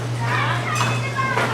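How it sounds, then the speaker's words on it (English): Children playing at Beech Bend amusement park chatter and call out in the background over a steady low hum, brief and lively. "Kids are having some fun today."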